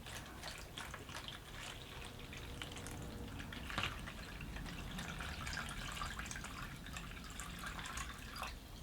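Water poured from a tap to fill a take-out container being made into a self-watering microgreen grower; a steady trickling and splashing runs for about nine seconds at moderate loudness, with no talk.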